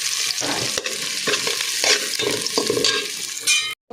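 Rice sizzles in hot oil in a pot with onions and whole spices while biryani is being made, a loud continuous frying hiss broken by stirring scrapes, ending abruptly.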